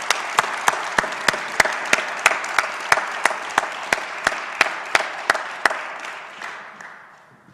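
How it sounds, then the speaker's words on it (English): An audience at a USDA Ag Day event applauds, a steady clatter of claps with a few sharp, evenly spaced louder claps standing out above it, gradually thinning and fading out near the end. "Let's give them a huge round of applause."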